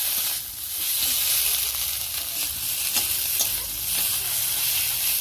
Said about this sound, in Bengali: এইভাবে ভালোভাবে নেড়ে নিয়ে কষিয়ে নেব তরকারির সবজিগুলো।